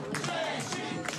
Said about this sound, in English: And a crowd responding to all of the athletes here.